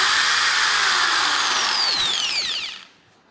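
A handheld electric drill machine runs in reverse, emitting a loud, steady high-pitched motor whine that winds down and stops near the end, leaving quiet.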